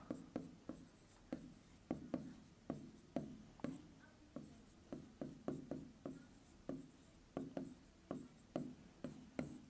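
Pen writing out a Class 9 polynomials maths solution on paper: quick scratchy strokes in a steady, irregular rhythm, close and faint, with no talk.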